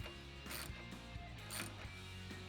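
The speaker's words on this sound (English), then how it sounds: "Repeat the process on the front, torquing both to 10 foot-pounds." Bolts and lock nuts being tightened to torque on the front and rear cross members of a Weather Guard EZGlide 2 drop-down ladder rack on a cargo van, giving steady ratcheting mechanical clicks with brief louder bursts, no talking.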